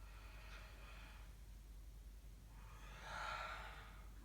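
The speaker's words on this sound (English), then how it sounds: "Full exhale." A full, slow exhale during gentle yoga breathing, a soft breathy rush that swells near the end, heard alone and close after a fainter earlier breath.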